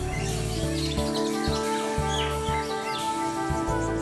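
Caged songbirds chirp and call at Pasar Ngasem bird market in Yogyakarta, a dense layer of overlapping tweets over a steady low hum and recurring thumps.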